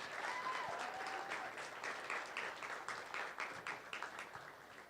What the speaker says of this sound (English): let's give another round of applause for those 2 amazing stories that we heard